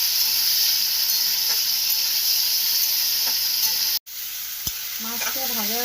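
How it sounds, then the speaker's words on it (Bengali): Prawns frying in hot oil give a loud, steady hiss and sizzle that cuts out briefly near the end, followed by a small clink and the frying resuming with a faint wavering tone over it. "চিংড়ি মাছটা ভেজে তুলে নিয়ে আসছি।"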